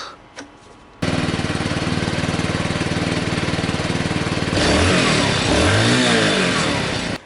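A small Honda C90 Cub moped engine starts up and idles steadily, then revs higher as loose metal P-clips rattle and buzz along with it, close and loud.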